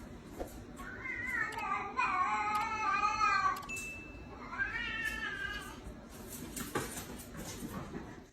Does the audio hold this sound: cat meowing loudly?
yes